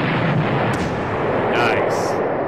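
Artillery fire in the World War II strategy game Panzer Corps, Poland campaign: dense, continuous booming and rumbling explosions fill the short stretch loudly, with a few sharper bursts on top.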